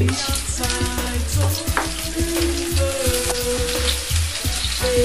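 Garlic and onions frying in a pan for a Jamaican saltfish and butter beans dish, a loud close sizzle with crackling pops and the clatter of a utensil stirring against the pan.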